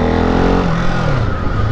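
Ducati 698 Hypermono single-cylinder motorcycle engine pulling hard, then its pitch drops sharply as it shifts up a gear and carries on at a lower, steady drone, close and loud.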